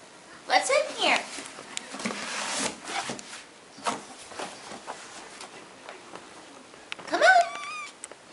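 A few short kitten meows, one near the start and a higher rising one near the end, mixed with soft rustling and handling noise close by.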